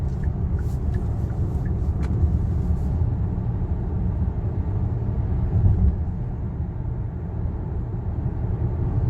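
A Hyundai Palisade cruising on a country road with cruise control engaged while the driver presses the accelerator, giving a steady low cabin rumble of engine and road noise, with faint clicks near the start.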